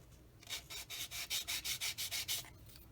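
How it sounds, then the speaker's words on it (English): Plastic part of a Tamiya 1/35 Panzer 38(t) model kit being sanded by hand: about a dozen quick, rhythmic rasping strokes, close and soft, with a brief hush before and after. "Get that sanded down."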